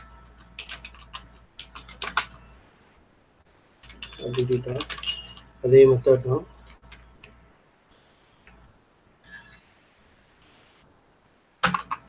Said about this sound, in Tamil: இது டைப் பண்ணிட்டு இருக்கேன்.